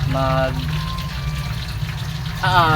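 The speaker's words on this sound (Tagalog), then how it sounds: "busy tayo rito sa lababo" Tap water runs steadily into a kitchen sink while dishes are washed, a constant rushing flow that continues beneath a person talking at the start and again at the end.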